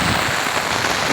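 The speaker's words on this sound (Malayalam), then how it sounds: "ആ പെരുമഴയത്തൊരു വള്ളം നിൽപ്പുണ്ട്." Heavy monsoon downpour drums steadily on a boat out on the backwater, a dense, loud and unbroken hiss of rain with no voices.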